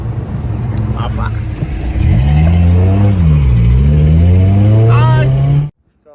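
A car engine revs hard, its pitch climbing, dipping and then climbing again over a steady drone, then cutting off abruptly. It is loud and close, with no talk over it.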